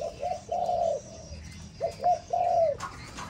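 Malaysian doves at a breeding farm give two short cooing phrases, each a few soft rising-and-falling coos, close and clear over a faint background hum.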